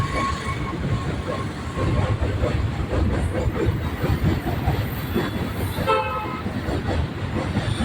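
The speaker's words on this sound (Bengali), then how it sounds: "এই ব্রিজের উপর দিয়ে যখন ট্রেন যায় বা মালগাড়ি যায় একটা শব্দ হয়" A freight train rolls across the Vivekananda Setu rail bridge near Dakshineswar, a loud continuous rumble with rhythmic clattering wheels and a brief squeal or horn toot partway through, with traffic noise alongside.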